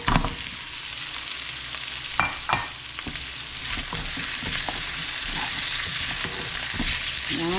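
Pork pata pieces sizzle and spit in a hot pan of oil while being cooked for kare kare, a steady loud frying hiss with a few sharp clatters of stirring near the start.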